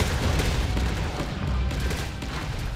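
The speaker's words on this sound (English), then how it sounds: "I'm shooting at him for nothing." Dense, continuous gunfire and explosions from the Catalyst Black game, loud and crowded with overlapping shots and booms throughout.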